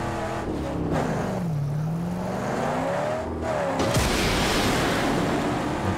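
A car engine revs in the Mad Max video game, its pitch climbing and falling in loud sweeps over a steady rumble, then surging again near the end.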